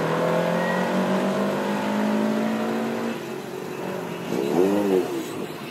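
A tuned Ford Fiesta at a motor sprint at Aintree pulls away hard, its engine note rising through the revs and then fading into the distance, with a brief fresh burst of revving near the end.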